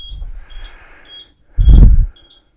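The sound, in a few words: five-beep error code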